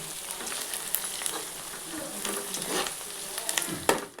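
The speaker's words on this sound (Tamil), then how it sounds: "இந்த வெங்காயத்தோடு சேர்த்து பூண்டையும் வந்து நல்லா வந்து வதக்கி விட்டுடலாம்" Steady sizzling and crackling of onion and garlic frying in a hot pan for fish curry, with occasional stirring scrapes, fairly close.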